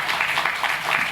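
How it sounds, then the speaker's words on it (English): An audience at a conference and skills competition applauds steadily, a dense wash of many hands clapping at close range with no break. "So we can clap for Professor Nilesh Vasa"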